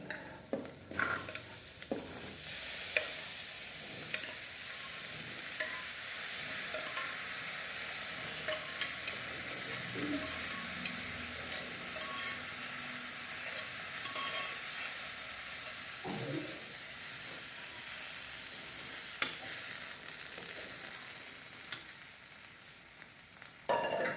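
Chickpeas cook in a frying pan with browned seasoning, giving a continuous close hiss and sizzle throughout while a spoon stirs now and then with soft scrapes, and no one talks.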